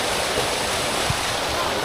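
Waterfall near Kargah Buddha outside Gilgit, a steady broadband rush of falling water, close and constant, with faint hints of activity in the background.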